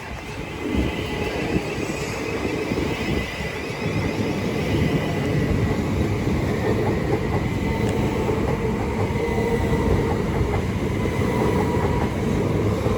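Class 375 electric multiple unit rolling through New Cross on the South Eastern Main Line, a steady continuous rumble and rail clatter lasting throughout, loud and close with no voices.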